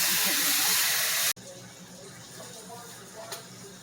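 Steak searing in a hot pan, a loud bright hiss that cuts off abruptly and gives way to a quieter, steady sizzle with soft clinks.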